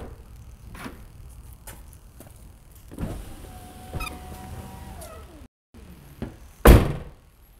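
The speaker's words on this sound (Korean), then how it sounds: "실험을 위해서 모든 창문을 열어보도록 하겠습니다" A Tesla Model 3 lowers its power windows one after another, each a smooth motor whine ending in a soft thunk, with clicks and knocks between and a louder bump near the end, close by.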